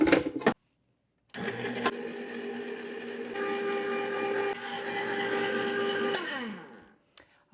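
An ice cream mixer churns raspberry sorbet with a steady, fairly loud mechanical whir and a layered motor hum that runs for several seconds after a brief pause, then winds down and stops near the end.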